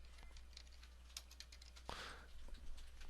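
Typing on a computer keyboard to filter a list in software, a quiet, steady patter of light key clicks with one louder tap near the middle, faint and close with a low hum beneath.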